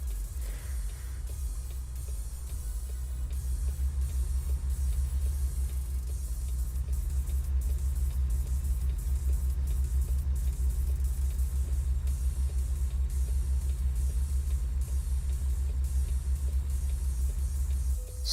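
A truck engine in American Truck Simulator rumbles low and steady throughout, a continuous in-cab drone with a slight rise in level after the first few seconds and no talk over it.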